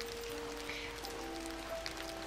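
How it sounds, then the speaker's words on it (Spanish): Rain beginning to fall outdoors during a fishing competition, a steady soft patter of drops on surfaces with a few faint tonal hums underneath, no talking. "Vale, se nos pone a llover."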